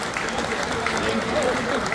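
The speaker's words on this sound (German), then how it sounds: "Ich denke, aus dieser Runde nochmal ein riesiger Applaus." Audience applause at a prize-giving ceremony for the Westphalian champions, a steady wash of clapping with voices mixed in.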